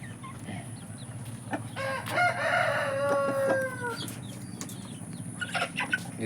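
An Aseel rooster crows once in a long, loud, clear call with rising and falling harmonics, close to the microphone, with wing flapping and farmyard background noise around it.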